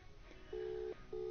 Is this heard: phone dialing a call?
yes